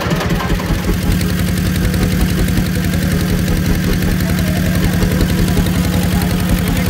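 A steady, loud engine drone from a small passenger trawler boat crossing a lake toward a waterfall, chugging evenly and close throughout with no pauses.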